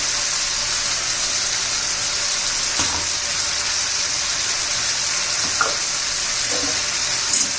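Ground paste of tomato, coriander, curry leaves, ginger, garlic and green chili sautéed in a pan for a cluster bean curry, a steady sizzle with occasional scraping stirs and no talking.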